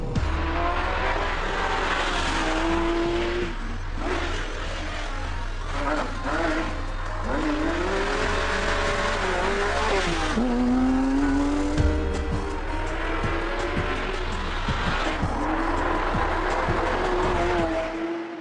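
A Porsche 911 GT3 RS of the 997 generation drives along, its engine droning and rising through revs beneath steady road noise while someone talks over it.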